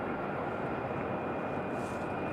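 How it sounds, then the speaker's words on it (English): A Boeing 757 airliner preparing for departure at Raleigh-Durham airport gives off a steady, dense engine roar with a thin high whine on top, unbroken and fairly loud, with no talk. "There's our 757, getting ready for departure."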